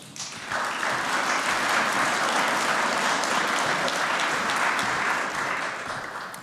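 A conference audience applauds to welcome a speaker to the stage, a dense, steady clapping that swells quickly, holds for several seconds, then begins to fade.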